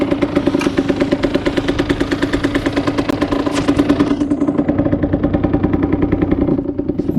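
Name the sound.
Derbi Senda 50cc two-stroke motorcycle engine running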